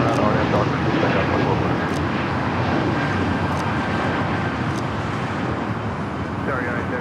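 An airliner on takeoff from runway 25 right at LAX produces a steady, loud engine roar that fills the whole stretch, heard from a distance with traffic noise underneath and a voice talking over it.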